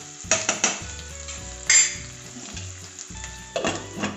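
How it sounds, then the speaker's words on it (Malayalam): Food sautéing in a pan for homemade sandwiches, with a continuous sizzle and several sharp clinks and scrapes of a spatula against the metal pan. "ഇത് നമുക്കൊന്ന് നന്നായിട്ടൊന്ന് ഇതിലേക്ക് വഴറ്റിയിട്ടിട്ട് നമുക്കൊന്ന് കുറച്ച് നേരം അടച്ച് വെക്കാം."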